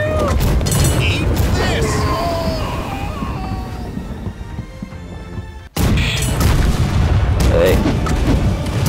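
Ship cannons boom in a naval battle in the game Blackwake, loud repeated blasts and crashes over a busy din of battle, with crew voices shouting through it.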